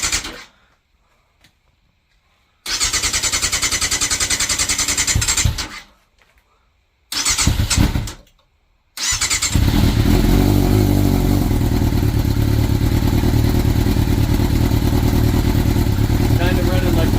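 A sportbike motorcycle engine cranks and fires for its first start of the year, catching in short bursts between silent pauses before settling into a loud, continuous close-up idle with a rough, clattering note.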